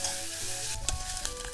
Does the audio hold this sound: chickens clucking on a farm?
no